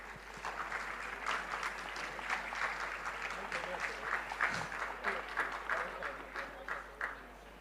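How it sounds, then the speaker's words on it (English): An audience at a school annual day claps for the singers after their performance, a dense, steady round of applause filling the hall with scattered louder bursts and faint voices mixed in. "Let's give them an enthusiastic clapping for our singers."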